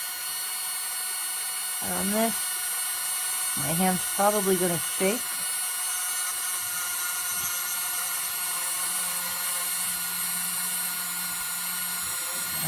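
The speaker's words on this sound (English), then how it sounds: "I'm going to turn on the drill, so it's going to be a little loud. And this is just a Dremel drill." Handheld Dremel drill running while making a hole in polymer clay, a thin, steady high-pitched whine that continues throughout the clip, with a person talking briefly over it.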